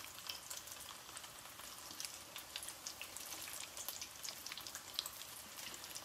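Battered chiles rellenos stuffed with tuna fry in very hot oil, a continuous soft sizzle crowded with tiny pops and crackles, steady and close throughout.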